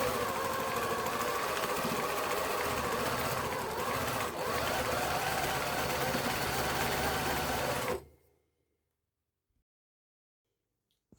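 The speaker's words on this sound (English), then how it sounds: "Let's just give the motor a test." A jack servo motor on a sewing machine runs in a steady, fairly quiet mechanical whir for about eight seconds, then stops abruptly and leaves near silence.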